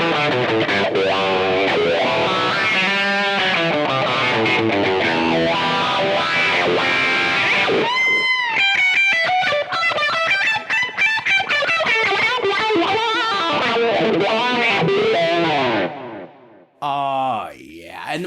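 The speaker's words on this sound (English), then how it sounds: "I'm going to go into like a distorted sound on the amp" Distorted electric guitar through a wah pedal plays a continuous solo with sweeping, vowel-like wah tone shifts, loud and close, ending in a brief pause and a final burst.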